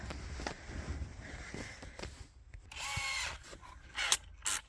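A power drill drives taper screws into bare car metal while an amplifier is fitted in a Volvo S80, with short close bursts of whirring and grinding between brief pauses and clicks.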